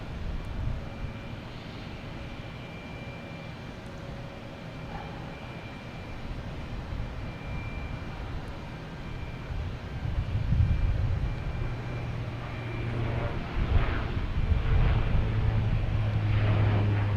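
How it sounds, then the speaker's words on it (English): A PAL Airlines aircraft departs Boston Logan Airport for Halifax, a distant engine drone that is faint at first, then grows louder with low throbbing tones in the second half. "This is PAL Airlines heading back to Halifax."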